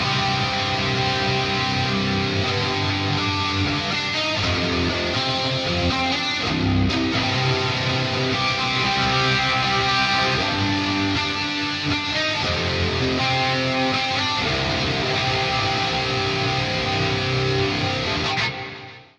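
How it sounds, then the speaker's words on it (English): Distorted electric guitar chords with delay and reverb effects ring out with delay repeats and reverb tails, loud and sustained before fading out at the end. "And then we also have the delay and the reverb."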